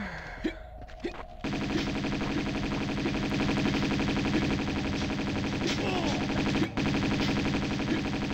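Rapid Uzi gunfire in the video game Tomb Raider 2: a few single shots, then a long loud unbroken automatic burst with dense clattering rhythm, briefly cut near the end before continuing.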